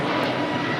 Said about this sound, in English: That's an E175 coming in from Sacramento.